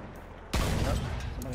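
A burst of gunfire in the Battlefield 1 video game, heard during a tank match: a loud, sudden volley that starts abruptly and keeps rumbling and echoing for the rest of the moment.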